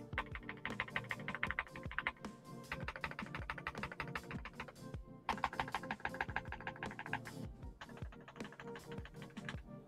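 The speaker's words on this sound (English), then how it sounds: "they sound ready to go. This is a ready to go keyboard" Rapid, steady typing on a Redragon Eisa K686 Pro SE mechanical keyboard, dense clacking keystrokes in bursts with brief pauses, close and clear with no talking.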